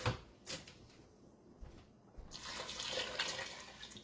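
Tap water running into a pot to top up a pressure cooker soup, quiet at first and then a steady, fuller rush of flow.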